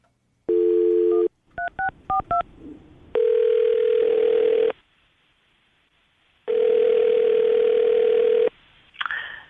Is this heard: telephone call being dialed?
yes